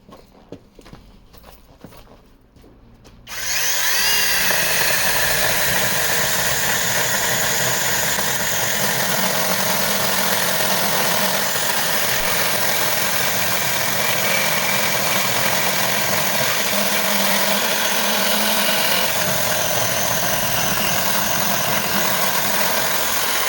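A Grasser GCS 802 cordless mini chainsaw runs up after a few seconds of quiet handling and then cuts through wood about 13 cm wide with a steady, loud, close buzz and slight load changes over the remaining twenty seconds.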